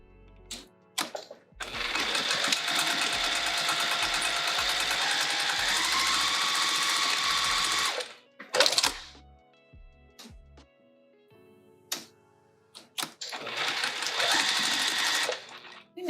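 A sewing machine stitches a fabric pouch from a kit, running in two long steady bursts with short stops and handling clicks between them, close and loud with no talk.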